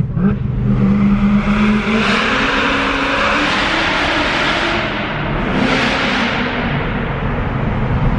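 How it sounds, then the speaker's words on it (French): A 750 hp Corvette engine revs hard and loud, its roar building and holding with a brief dip and surge midway, close and continuous with no talking. "C'est peut-être la voiture qui fait le plus de bruit que j'ai entendu de ma vie."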